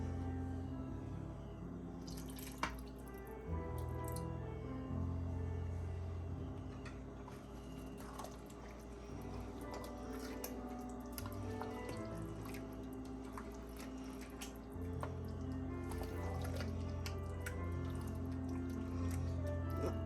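Broth poured into a pan of bok choy with peanut paste, heard as a soft dripping, liquid pour with gentle squishy bubbling, fairly quiet and steady, without voices.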